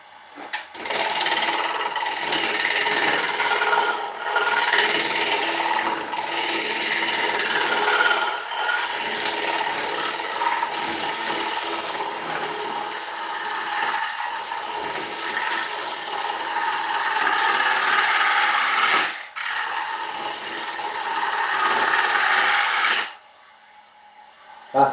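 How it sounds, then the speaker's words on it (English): A wood lathe spins an ash log at 715 RPM while a half-inch bowl gouge cuts into it, producing a loud, continuous rasping, scraping roar with brief dips where the tool lifts off, then stops near the end. "I'm using a 1/2 inch bowl gouge because it's quite aggressive. It will remove quite a bit of timber very, very quickly."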